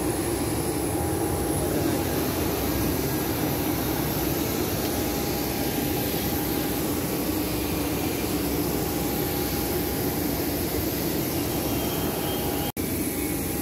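Jet engines of a passenger airliner at an airport hum steadily and loudly at close range, a continuous broadband roar with a thin high whine, with no talking.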